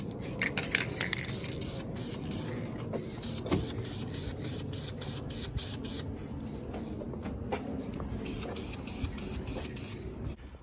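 Enamel spray paint is applied to brake parts from an aerosol can in repeated short hissing bursts with brief gaps between, close and fairly quiet over a low background rumble.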